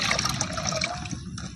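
Water pours and splashes steadily into a pressure cooker holding chana dal, a close, continuous gurgling trickle for a second and a half.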